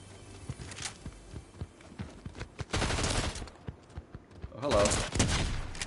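Shotgun blasts in Fortnite, a string of punchy separate shots followed by two louder, longer bursts of heavy fire, with someone briefly speaking partway through.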